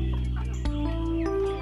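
Chickens clucking close by in a steady run of calls, with a low background hum and no voices.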